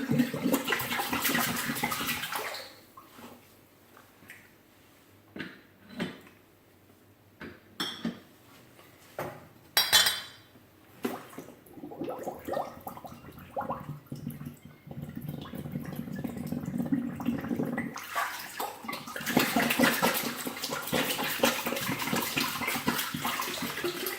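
Tap water runs and splashes while ginger beer bottles are cleaned, with glassy clinks and knocks in between and a heavier stream of water at the start and end.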